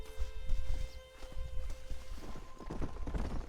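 Horses' hooves clip-clop on the ground in the Western video game Red Dead Redemption while horses are rounded up, uneven close thuds layered over ambient game sound.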